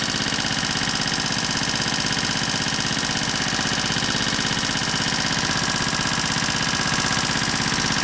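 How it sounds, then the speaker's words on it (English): An engine running on hydrogen from water electrolysis drones steadily and loudly, with a fast, even rhythmic chatter throughout. "the engine kept on running"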